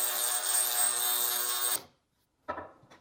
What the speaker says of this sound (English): We've got brand new stones in the Dremel tool.